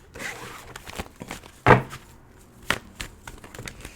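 Tarot cards being shuffled, a run of soft papery riffles and flutters with one sharp, louder burst midway, close by and with no voices.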